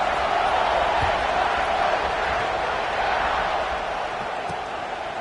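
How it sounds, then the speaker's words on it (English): Football stadium crowd buzzing after a score, a steady, dense roar of many voices heard from the broadcast position, holding level and fading slightly toward the end. "this crowd is buzzing after that last score"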